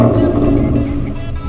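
Aston Martin V12 Vantage with a manual gearbox, its V12 engine running at a steady, loud, close idle with a dense low rumble for a brief moment.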